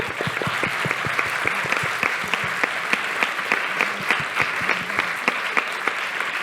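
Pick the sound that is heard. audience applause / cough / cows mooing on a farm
audience applause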